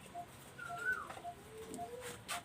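Kamagar pigeons in a loft give a few soft, short coos and low warbling calls, faint and spaced apart against a quiet background.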